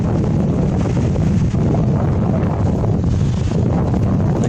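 Strong wind buffets the microphone at Glacier National Park, Montana, a dense, steady roar that rumbles low throughout with no let-up and no voices.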